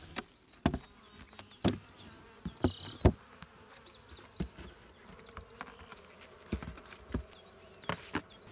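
Honeybees humming around an open, crowded beehive, a steady near buzz broken by sharp knocks and thumps of hive parts being handled, with no voices.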